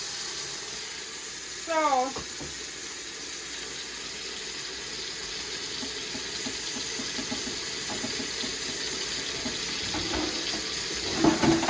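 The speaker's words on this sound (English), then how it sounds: "So meanwhile my brisket is searing" Brisket searing in a hot pan gives a steady, hissing sizzle close by, continuous and even throughout, with a brief voice near the start and again at the end.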